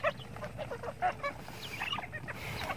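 Domestic ducks on a farm honk and quack in a busy overlapping flock, several calls at once with a few louder squawks standing out, close and continuous throughout.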